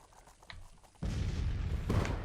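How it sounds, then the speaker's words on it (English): Civil War cannon artillery fires in Grand Tactician: The Civil War, a sudden loud boom landing after a quieter opening, followed by a sustained rumbling roar and a second swell of blasts. "our cannons at least are opening up"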